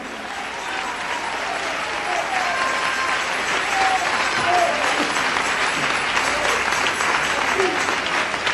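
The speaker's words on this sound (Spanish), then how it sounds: "Dele ese aplauso al Cristo de la gloria." Sustained applause from a large church congregation, steady and dense throughout, with faint cheers and voices rising within the clapping.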